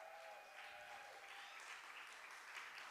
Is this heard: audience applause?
yes